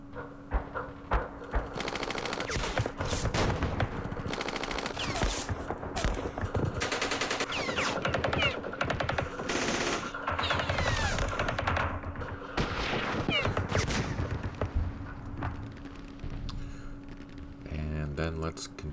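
Sustained bursts of automatic fire in the Campaign Series Vietnam wargame at Dien Bien Phu, dense rapid rattling that fills the whole stretch, with a steady hum underneath and a voice talking over parts of it.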